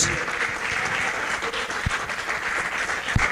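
Applause from a church congregation praising during a Thursday service, steady broadband clapping throughout with no talking.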